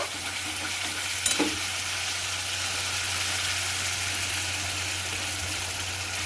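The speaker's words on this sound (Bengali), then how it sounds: "জল দিয়ে একটু আমি নেড়ে নিচ্ছি" Fried masala loosened with water for a rohu fish curry sizzles in a pan, a loud, dense, continuous hiss with a short clatter of stirring early on.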